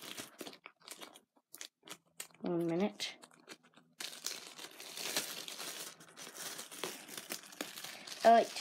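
A plastic bag holding a toothbrush crinkles and crackles in bursts of close rustling and crumpling, with short pauses between handlings and a brief voice partway through.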